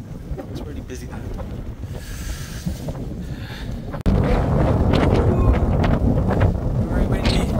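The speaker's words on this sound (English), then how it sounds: "Very windy." Strong wind buffets the microphone on an exposed stretch of the South Downs Way hiking trail, a steady loud roar that surges harder halfway through, with faint speech beneath.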